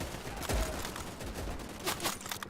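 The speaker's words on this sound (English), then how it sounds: "We're getting shot at." Gunfire in the World War II shooter Easy Red 2, scattered shots and short bursts cracking at a moderate distance over a rough background battle ambience, with no talk.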